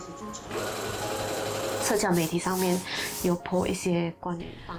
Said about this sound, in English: I started to sew protective gowns.